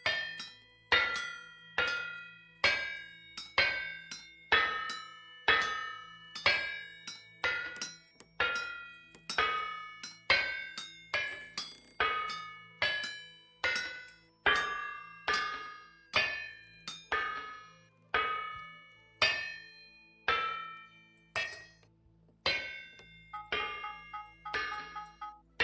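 Hammer blows ringing on metal at an anvil in the Vintage Story video game, a long regular series of sharp bell-like clangs, each decaying before the next.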